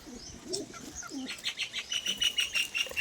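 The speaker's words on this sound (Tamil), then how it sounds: "புறா எல்லாம் மேய்ஞ்சிட்ருக்குங்க பாருங்கள் எல்லாமே ஒயிட் கலர் புறா தான் அழகாக இருக்குது" White pigeons on a pigeon farm coo and chirp with bursts of wing flapping, several birds close by, in a lively irregular flutter with no talk.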